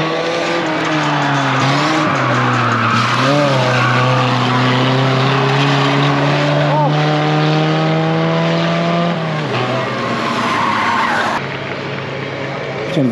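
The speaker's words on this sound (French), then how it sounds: "La Twingo c'est une voiture de rallye." A Renault Twingo skids at a demolition derby, tires squealing in long, loud sustained howls over a revving engine while people shout and talk excitedly nearby.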